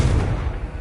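Confringo blast spell cast in a Harry Potter video game, a single loud booming explosive burst with a low, rumbling tail that fades quickly.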